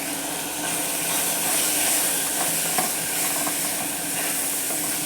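Vegetables with chilli powder, coriander powder and mutton masala sauté in a pan for a veg kurma. The sizzle is steady, with a few faint stirring scrapes, and no voice is heard.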